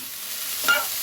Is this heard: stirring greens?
yes